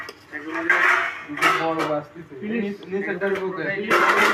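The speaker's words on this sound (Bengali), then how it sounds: "খাওয়ার জন্য আগে প্লেট নিয়ে রেডি রূপক প্লেট ভাগ করছে" Plates clatter and cutlery clinks as dishes are passed around for a meal, with several knocks and scrapes close by while people talk over them.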